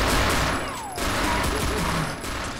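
Dual pistols fire in the Brutal Wolfenstein mod for PC, a dense, continuous rattle of game gunfire with a short break near the middle, loud and close with no talking.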